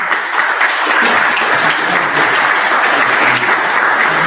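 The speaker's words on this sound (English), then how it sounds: "Can we give them a round of applause?" A symposium audience breaks into a steady, dense round of applause that fills the room at full volume from start to finish, with no voices standing out above it.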